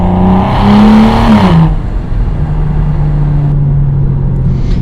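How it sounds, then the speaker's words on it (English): A BMW E92 335i with the N55 engine and a muffler-deleted exhaust revs hard and close, then downshifts with a sharp drop in pitch and pulls again with a steady, loud, raspy drone. "Let's do one last downshift and pull to close out this section."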